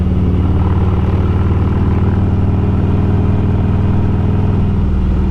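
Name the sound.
motorcycle engine while riding up Mount Lemmon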